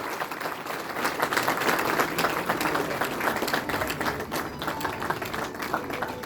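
An audience at a university National Sports Day celebration applauds in a sustained, dense patter of many hands, heard from a moderate distance at low level.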